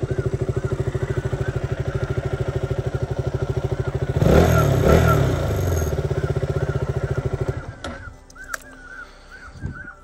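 A motorcycle engine idles after a morning cold start with a steady rhythmic putter, revs louder midway, then cuts off, leaving faint bird calls and a few clunks.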